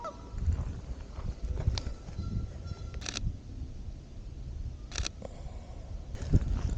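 Geese honk in a rural field where cranes are also present, with short calls scattered over steady outdoor background noise and a few sharp camera shutter clicks.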